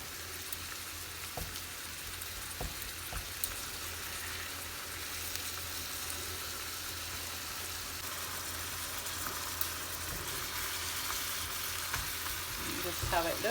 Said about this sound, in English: So cook that on this side for a minute as well